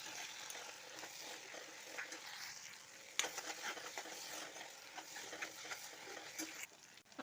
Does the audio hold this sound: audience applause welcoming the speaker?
no